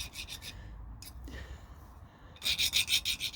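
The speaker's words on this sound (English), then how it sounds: "Just deburr the sides." Hand filing or rubbing to deburr the sides of a small metal toe clamp, with a few short rasping bursts early on and a louder, rhythmic run of strokes near the end, close by.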